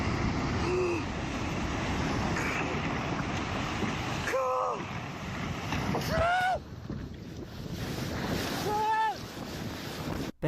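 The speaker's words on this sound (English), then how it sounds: "Back in 2017, Greenland was hit with a tsunami." Tsunami waves surge onto the Greenland coast under heavy roaring wind noise, a constant loud rush of water and gusts, with brief voices calling out over it.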